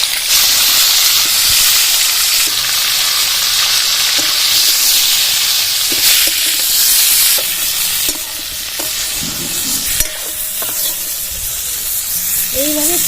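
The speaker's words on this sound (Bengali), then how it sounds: "ফুলকপিগুলো ভেজেছি এবার তুলে নেব" Cubed cauliflower pieces fry in hot oil for vegetable khichdi, giving a loud, continuous sizzle with occasional scraping stirs and clinks of a spatula.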